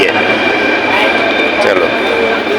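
A metro train rolls into a station platform with a loud, steady rumble and a high whine, close by, while people talk over it.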